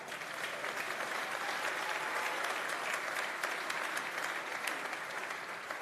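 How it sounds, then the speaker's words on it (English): A congregation claps at a pastors conference church session, a sustained wash of many hands applauding at moderate level, steady with slight swells, no speech over it. "If you want to clap, clap well."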